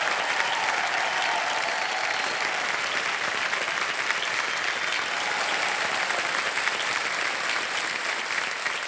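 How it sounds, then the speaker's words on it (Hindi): Sustained studio audience applause on a Hindi TV quiz show after a contestant wins a cheque, dense, even clapping holding steady throughout without a break. "तालियां बजती रहे।"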